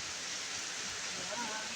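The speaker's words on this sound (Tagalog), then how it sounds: "Ang lakas po ng ulan." Heavy rain pours down in front of a shop, a steady, dense hiss of downpour filling the short stretch evenly, with a faint voice beneath it.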